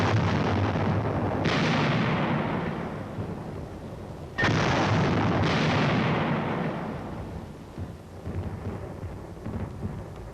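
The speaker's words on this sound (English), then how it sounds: "Surface and air bursts clear the way for the riflemen." Artillery surface and air bursts boom in the Korean War, deep rumbling blasts with long rolling decay, two big detonations overlapping under continuous distant thunderous fire.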